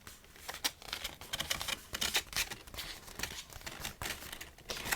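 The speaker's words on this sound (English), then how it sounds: "So you need to tear it, otherwise you cannot take it out." A die-cut sticker is torn out of its sheet with close, rapid crinkling and ripping of paper. The sound comes in busy bursts over five seconds, with no talking.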